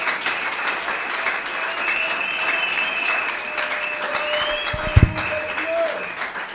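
A congregation applauds after a Bible reading during a French-language church service. Steady, sustained clapping fills the whole stretch, with a couple of sharp louder knocks near the end.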